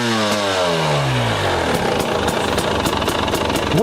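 KTM 300 EXC two-stroke enduro motorcycle, 2022, brought to life by its electric starter: a brief rising whir catches into a loud, close, crackling two-stroke idle with rapid rhythmic pops.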